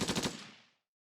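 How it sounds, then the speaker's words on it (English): Gunshots from Ghost Trick, a quick rapid burst of three or four loud cracks in close succession, then a short echoing decay into silence. "Ah, it's a gun!"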